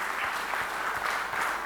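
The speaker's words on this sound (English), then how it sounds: "Let us all give a round of applause to all those chartered accountants" Audience applause at a chartered accountants' event, a steady dense wash of clapping with distinct claps breaking through, filling the moment on its own with no talk over it.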